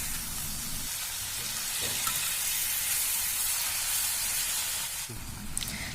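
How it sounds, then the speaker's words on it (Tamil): Chicken pieces for a chicken fry sizzling in a pan while being stirred, a loud steady hiss with faint scraping and a brief change near the end, and no speech. "இப்போ குழம்புலேருந்து எடுத்து வச்சு சிக்கன் பீஸை போட்டுடலாம். நல்லா கிளறி விட்டுக்கோங்க."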